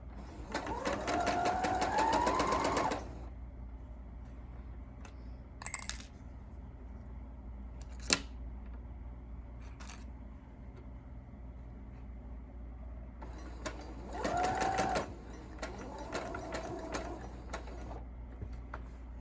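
A sewing machine stitches a quilt in short mechanical runs, a longer burst at the start and another near the end, with brief clicks and handling noises between them in a quiet room.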